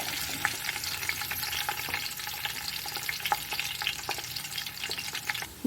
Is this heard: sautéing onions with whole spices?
yes